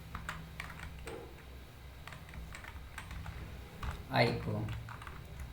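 C code being typed on a computer keyboard, scattered quiet key taps over a low background hum, with a brief spoken phrase near the end.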